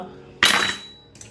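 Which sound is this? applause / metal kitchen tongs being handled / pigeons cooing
metal kitchen tongs being handled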